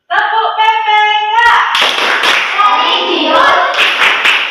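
A voice calls out a short sung line, then a class of fifth-grade children claps together in a rhythmic school clapping chant, loud and close.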